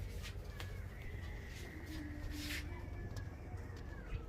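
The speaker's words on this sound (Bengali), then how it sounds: "খুব ছটপটে পায়রা" Teddy pigeons in a loft give soft, low cooing phrases, faint and somewhat distant, with a few sharp clicks and scuffles scattered through a quiet background.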